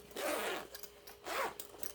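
A zipper on a handmade fabric maternity backpack is pulled in two quick, close rasping strokes, each lasting about half a second, with a short pause between them.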